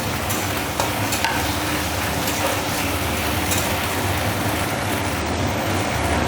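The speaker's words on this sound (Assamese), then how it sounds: "এতিয়া এইখিনি অলপ ভালদৰে ভাজি ল'ব লাগিব" Ginger-garlic paste and onions fry in a pan, a steady loud sizzle running throughout with occasional stirring scrapes and no voices.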